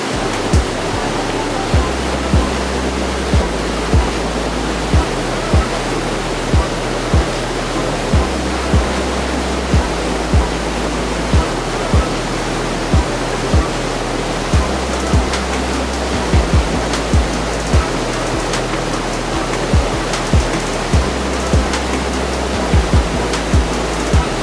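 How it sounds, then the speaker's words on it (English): Steady roar of Dawson Falls in Wells Gray Provincial Park, a broad continuous rush of falling water that stays loud and even throughout, with faint scattered thumps and no voices. "one last little trail to the last waterfall of the day. Going to a place called Dawson Falls"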